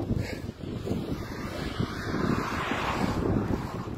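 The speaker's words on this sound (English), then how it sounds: "It's a little breezy." A breeze blows outdoors on a fishing outing, a continuous low rush that buffets the microphone and swells slightly toward the end, with no talking.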